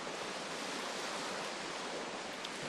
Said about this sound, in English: And I can hear the waves crashing on the shoreline.